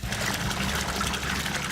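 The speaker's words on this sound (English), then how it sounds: "Fill the basin with water." Water pours steadily into an installed basin, a continuous, fairly quiet rushing trickle with no other sounds.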